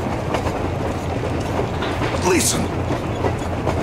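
In the video game Metro Exodus, a train rolls on rails with a steady, loud rumble and faint clatter, a brief metallic squeal rising midway, while a voice speaks over it.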